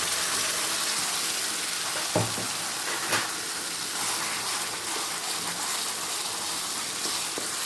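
Curry leaf chutney poured into a sizzling tempering of cumin and asafoetida, a steady loud frying hiss with a couple of sharp splattering bursts as the paste hits the hot oil.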